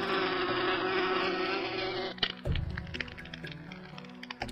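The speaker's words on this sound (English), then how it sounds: "Fly away, little bees." Bees buzzing in the video game Inherit the Earth, a steady droning hum with a tonal whine that carries on, then gives way to scattered clicks and softer, broken buzzing.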